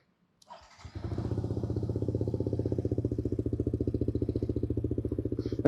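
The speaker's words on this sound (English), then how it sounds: "we are on the MT15. And if you can hear me, well, I hope you can hear me, then we're about to take it for a ride" A Yamaha MT15 motorcycle fires up and settles into a steady, close, rhythmic single-cylinder engine thrum, loud and even, before setting off for a ride on the streets of Bangkok.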